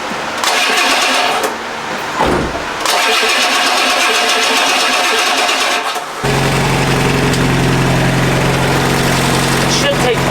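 A rebuilt 7.3 diesel engine in a Ford Econoline 4x4 van cranks loudly for about six seconds with a brief pause, then catches and settles into a steady, rumbling close-up idle.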